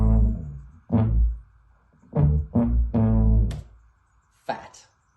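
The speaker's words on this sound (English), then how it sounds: "added a pure 808 bass sound and also a kind of EDM bass sound" Low tuba line layered with a pure 808 bass and a buzzy EDM bass, several loud sustained phrases with gaps, deep and heavy, played alone.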